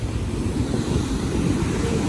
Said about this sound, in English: Oh my goodness, look at those waves.